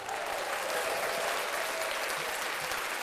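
An applause sound effect dropped into a podcast, a thick, even burst of crowd clapping that runs unbroken at a constant level with no talk over it.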